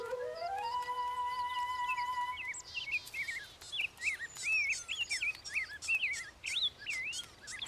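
Cartoon birds chirp and warble as they land to peck at seeds, with bright, quick calls layered over soft background music that fades as the birdsong takes over.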